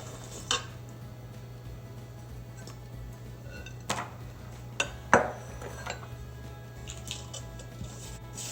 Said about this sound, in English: Then I'm going to put it in the bowl with the mixture of spices.